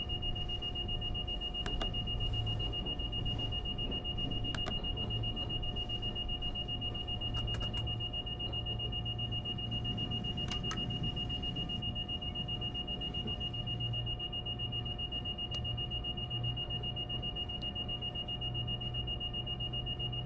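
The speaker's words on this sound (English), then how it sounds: "My apologies on the buzzer, folks" A buzzer alarm in Train Sim World 4 sounds inside a train cab, a steady high electronic tone holding for the whole stretch over a low engine hum, with a few faint clicks and beeps.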